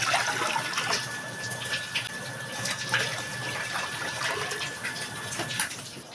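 Water is scooped with a dipper and poured into a pot for boiling, making a continuous splashing gush close by, with no voices heard.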